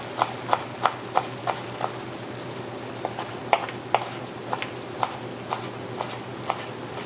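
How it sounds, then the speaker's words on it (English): Knife finely chopping parsley on a cutting board, a steady series of crisp, evenly spaced taps close by, with a faint background hum underneath. "we'll start chopping some parsley because we're going to garnish with parsley"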